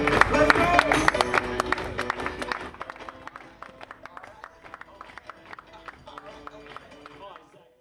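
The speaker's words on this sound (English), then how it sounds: "How about we clap our hands, make some noise, please." A crowd at a beach volleyball championship claps and cheers loudly at first, the applause thinning and fading over several seconds amid a noisy arena.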